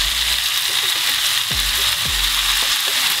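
Zucchini salad sizzling and frying in a pan while being stirred, with steady loud hiss and a couple of scraping stir strokes, no talking.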